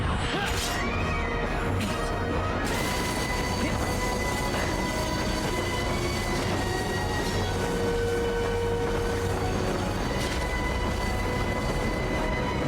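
A train runs in the video game Crisis Core Final Fantasy VII, a steady, dense mechanical rumble with metallic clanks and a brief crash near the start, lasting throughout.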